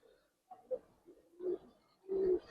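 Giribaz silver pigeons give a few soft, short coos in quiet surroundings, the last one slightly longer and stronger.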